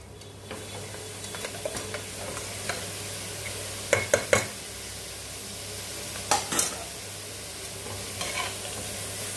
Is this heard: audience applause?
no